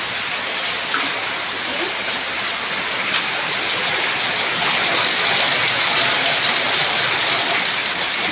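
Floodwater rushes and pours into a house in a loud, constant torrent, a dense steady roar with no breaks.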